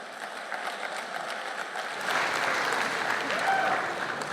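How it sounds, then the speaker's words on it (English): An audience at a startup demo day event in MIT's Kresge Auditorium claps steadily, the applause swelling louder about halfway through and continuing to the end. "Can you believe they're clapping for that?"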